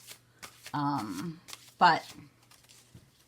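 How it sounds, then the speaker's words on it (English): A deck of tarot cards being shuffled by hand, with crisp riffling bursts close by, interrupted by a person talking over part of it. "let me shuffle these"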